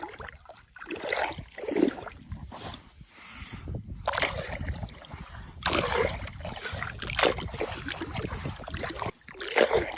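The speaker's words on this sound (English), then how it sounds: "I've just put my camera stick in the water." Camera stick moving through sea water at night beside a tiny inflatable boat, giving close, repeated sloshing and splashing swirls in uneven bursts, with no voices.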